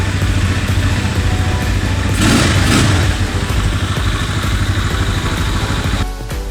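Motorcycle engine fitted with a 32mm carburetor, held at about 2,600 RPM: a loud, steady, close engine drone with a brief swell of throttle midway before the sound drops off near the end.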